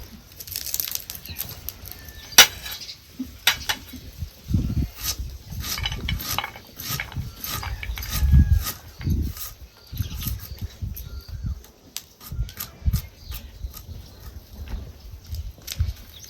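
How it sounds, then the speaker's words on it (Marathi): A knife chops onion on a board in a village kitchen, giving irregular soft thuds and taps that come in loose bursts at close range with no talk. "आता आपल्याला कांदा चिरून घ्यायचा आहे"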